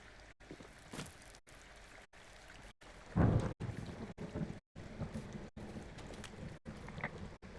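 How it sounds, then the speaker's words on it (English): Thunder rumbles in the Firewatch video game, with a loud crack near the middle standing out over steady rain and storm ambience; the clip is cut into short segments by brief silent gaps. "Hey, I heard some thunder."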